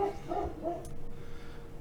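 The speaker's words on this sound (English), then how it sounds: "the dog's barking now." A dog barks a few quick, muffled times in the background of a room, fairly faint, then fades out.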